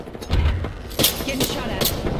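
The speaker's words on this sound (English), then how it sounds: "Getting shot at." Gunfire from the Apex Legends battle royale game, rapid bursts of shots cracking close and loud, with sharp reports clustering in quick succession over a dense background.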